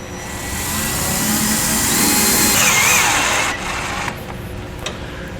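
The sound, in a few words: driving self-tapping screw into truck frame with nut driver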